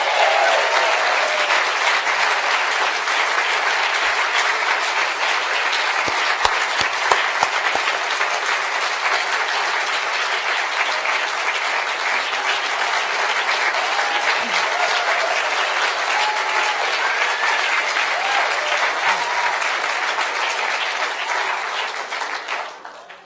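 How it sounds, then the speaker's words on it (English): A lecture-hall audience gives a long, sustained round of applause at a steady, dense level for over twenty seconds, fading out right at the end. "She's really comfortable sitting there enjoying the applause."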